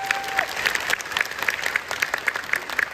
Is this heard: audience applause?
yes